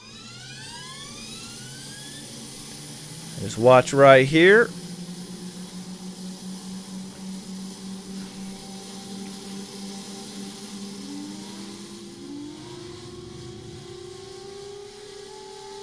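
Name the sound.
DC-Designs F-15 Eagle jet engines starting up in MSFS2020 video game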